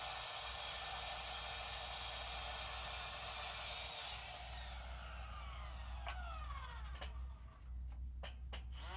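Hand sawing along the length of a wooden board to split it into two pieces, a steady broadband rasping that runs continuously, loud and close, with a few sharp knocks near the end.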